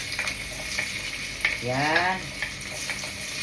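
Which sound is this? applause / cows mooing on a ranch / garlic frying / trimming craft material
garlic frying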